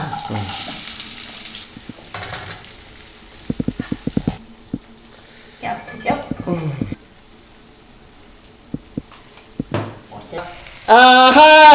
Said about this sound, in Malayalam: ചില്ലി ചിക്കനുള്ള ആ വറുത്ത എണ്ണയിൽ തന്നെ ഇടാം